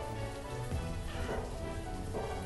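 Steady rain in the city-building game Banished, a continuous dense hiss of falling drops with low rumbling underneath, loud and unbroken throughout.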